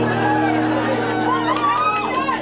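A concert crowd at a show shouts and whoops loudly and continuously, close and dense, with voices rising in pitch toward the end.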